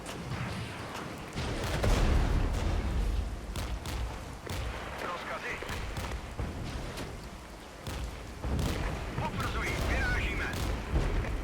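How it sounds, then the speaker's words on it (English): Airstrike explosions in the war strategy game Regiments rumble as continuous deep, heavy booms, with louder blasts rising out of a dense roar. "Okay, we're being hit by airstrikes now as well."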